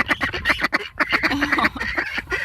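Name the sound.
geese honking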